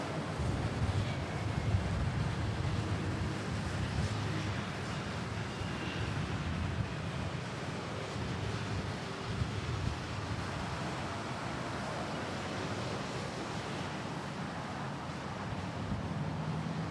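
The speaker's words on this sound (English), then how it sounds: "Feel a bit of wind." Wind gusting over an open plane-spotting spot beside Manila airport, a steady broadband rush and rumble buffeting the microphone throughout, with no clear voices.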